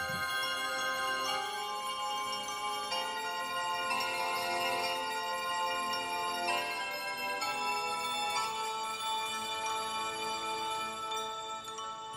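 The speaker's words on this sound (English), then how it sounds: "So that's the Glockenspiel Swarm." A shimmering cluster of bright, sampled glockenspiel tones rings out in layered sustained chords, changing every couple of seconds, dense and steady throughout.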